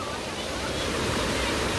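A waterfall and stream rush through a mountain valley at Jijangsan, a steady, loud, broadband roar of falling water that continues without a break.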